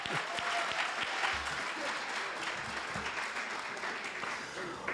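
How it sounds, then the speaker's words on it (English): An audience at a maths launch event claps for a boy in a steady round of applause, moderately loud with a few faint voices underneath. "let's applaud for this boy"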